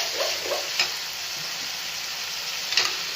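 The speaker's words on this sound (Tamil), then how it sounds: "வெங்காயம் வந்து ப்ரௌன் கலர் ஆகும், அது வரைக்கும் நல்லா வதக்கிக்கலாம்." Onions sautéing in a pan give a steady, close sizzle. Two sharper spatula scrapes or taps cut through the hiss, and no one speaks.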